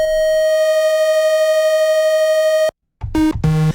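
Arturia MiniBrute 2 synthesizer oscillator mixing square and triangle waves holds a loud, steady buzzy tone, cuts off, then plays short stepped tones in quick succession.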